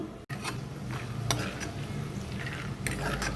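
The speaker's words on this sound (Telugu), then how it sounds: "ఇప్పుడు వేసిన పప్పుని వేపుకుందాము" Lentils fry in oil with a soft, steady sizzle, while a utensil scrapes and clinks against the pan every so often.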